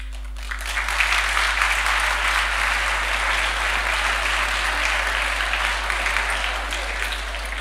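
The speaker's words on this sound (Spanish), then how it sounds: "Me gusta que lo aplauda, que los mando a estudiar y me aplaude." Audience applause in a lecture hall, a dense, steady wash of clapping that starts within the first second and holds at an even level to the end, with no voice heard over it.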